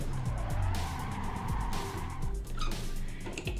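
Honda Civic Type R in the No Hesi driving game, engine droning steadily with tire squeal and skidding rising and falling through a handbrake slide, loud and continuous throughout.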